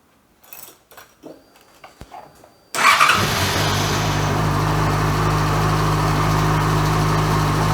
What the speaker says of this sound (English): we're actually going to run the bike up to temperature